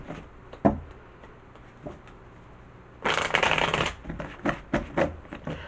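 Tarot cards shuffled close up, first a few isolated card taps and flicks, then a dense riffling burst of rapid papery flutter followed by scattered slaps as the deck is squared.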